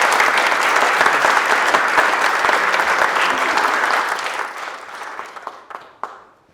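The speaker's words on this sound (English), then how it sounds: "so let's give her a round of applause" A roomful of people give a presenter a loud, sustained round of applause, the clapping holding steady before thinning out to a few scattered claps at the end.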